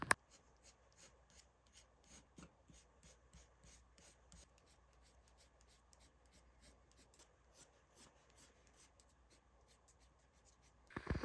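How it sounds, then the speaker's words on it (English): Pencil crayon scratching across a stop-motion puppet head, a quiet, steady run of short rubbing strokes in an even rhythm, close up, with a louder handling noise at the end. "So you just saw the pencil crayon going on there."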